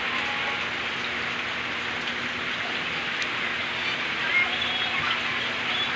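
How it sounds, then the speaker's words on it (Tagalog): Rain falling steadily outdoors, a dense continuous hiss of drops at moderate level with a faint low hum underneath, no voices heard. "At umuulan pa rin dito."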